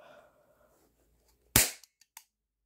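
A dollar store toy cap gun fires one sharp, loud crack after a quiet moment, followed by a few faint small clicks and pops as it settles.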